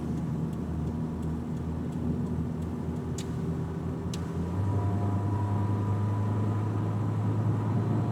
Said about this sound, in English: There's a lot of traffic tonight.